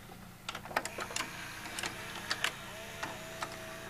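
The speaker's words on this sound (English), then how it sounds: "when you hear when the motor loads the tape, it'll make a similar sound" Mechanical clicks and whirring from a Fisher FVH-4000 VCR motor loading a tape, with a few sharp clacks and a brief steady hum near the end, fairly quiet and close.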